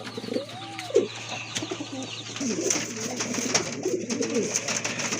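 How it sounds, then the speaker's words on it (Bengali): Pigeons kept for sale coo nearby, a low throaty call early on followed by softer, murmuring coos over a steady background hum. "দুইটা কবুতর আছে এখানে"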